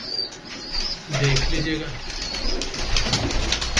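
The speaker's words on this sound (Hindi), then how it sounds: "रिजल्टेड कबूतर है" Pigeons coo in short low throaty bursts, with wings flapping and other birds audible nearby while someone talks over them.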